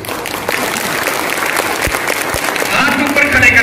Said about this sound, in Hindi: अब तक की सबसे जोरदार तालियां आप बज लीजिए